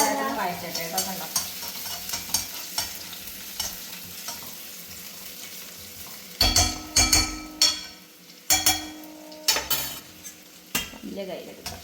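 Garlic and ginger sautéing in ghee in a pan, a continuous sizzle broken by repeated sharp scrapes and clinks of a spoon stirring against the metal, close up.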